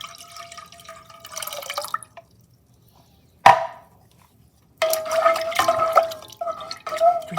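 Lemon juice pours for homemade lemonade in short trickling bursts with a drip in between, close and clear, with no talking.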